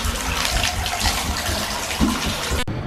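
Water gushes steadily into a bathtub while a water heater tank is being refilled, a loud close continuous pour that cuts off abruptly near the end.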